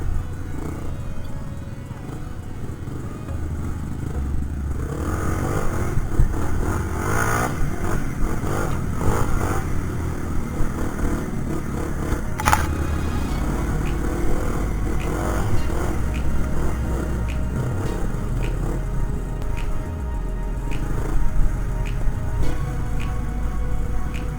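Motorcycles ride fast along a sandy trail at Khao Phai, with a steady engine drone and rumble running throughout, swelling now and then with revs and rattling clatter.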